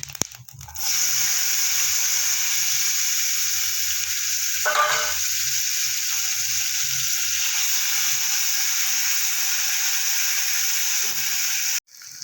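Chopped onion frying in a pan while cooking broccoli with egg, a loud, steady sizzle that starts abruptly and continues evenly, with a brief stirring scrape partway through and a sudden stop at the end.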